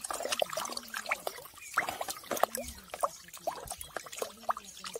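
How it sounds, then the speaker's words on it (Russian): A boric acid solution for treating tomato seedlings is poured into sun-warmed water from a barrel, giving a close, irregular gurgling trickle and splashing with small bubbly spurts. "Все это выливаем в воду."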